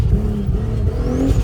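A 1300-horsepower Nissan Patrol on a ski slope, its engine roaring loud and close with rising revs and a brief tire-like squeal toward the end, steady and continuous with no voices.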